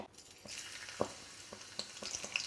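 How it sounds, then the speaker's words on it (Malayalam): Crushed garlic sizzles in hot oil in a home kitchen pan, a soft continuous frying hiss broken by a few sharp crackles and small pops, heard close and quiet with no talk. "എണ്ണ ചൂടായി കഴിയുമ്പോൾ ഇതിനകത്തേക്ക് വെളുത്തുള്ളി ചതച്ചതിട്ട് കൊടുക്കേ"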